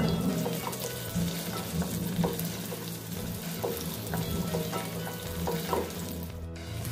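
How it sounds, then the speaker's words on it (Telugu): Green chilies and onions frying in a pan for paneer cashew biryani, a dense continuous sizzle with scattered light stirring clicks, close and steady from start to finish. "సో పచ్చిమిర్చి వేసేసుకొని కొంచెం ఫ్రై చేసేసుకుందాం."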